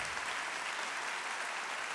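Dense, steady applause from a convocation audience fills the hall, a continuous wash of clapping held at an even level without a break.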